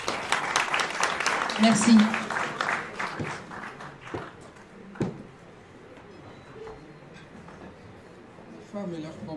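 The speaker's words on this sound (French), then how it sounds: "Sous vos applaudissements" Clapping from a gala networking event crowd rings out for the first few seconds, then fades as a person begins speaking over the quieted room.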